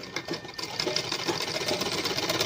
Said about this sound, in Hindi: अब इसका ये जो एक्स्ट्रा कपड़ा है इसको इस तरह फोल्ड करते हुए सिलाई मार लेंगे